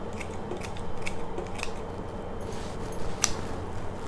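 Kitchen scissors snipping vegetables into fine pieces, a few quick light clicks and cuts spread across the moment, faint and close against a soft background hiss, with no talking.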